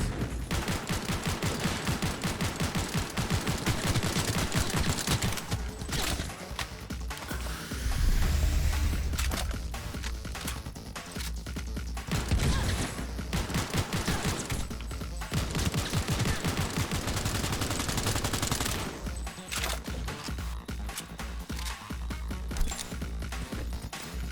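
Sustained gunfire in the Cyberpunk 2077 game, with dense rapid bursts and volleys of shots running almost nonstop at high level, broken by brief lulls and heavy low thumps.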